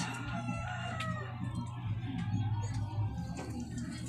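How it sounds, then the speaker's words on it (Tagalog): Pet chickens and a rooster kept at home, the rooster crowing with steady clucking underneath, fairly close but not loud, with a voice talking faintly at times. "Yan mga birds. Yan sila."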